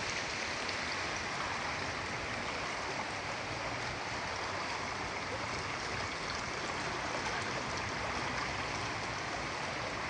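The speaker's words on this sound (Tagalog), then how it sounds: "Ang ganda ng ilog." A river flows steadily with a constant broadband rush of water, even and unbroken throughout, with no voices.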